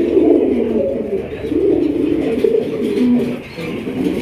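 Pigeons cooing inside a loft, a pair of birds offered for sale, with repeated low throaty coos close by and continuous.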